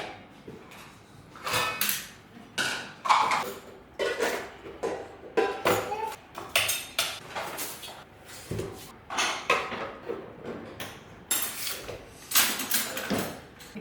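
Washed metal pots and dishes being put away in a home kitchen, with repeated clanks, knocks and clatters in an irregular rhythm, close by and without talk.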